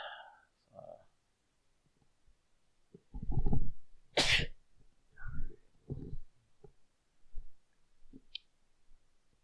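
A single loud sneeze bursts out midway, surrounded by soft scattered clicks and quiet mouth and body noises in an otherwise quiet room during movie commentary.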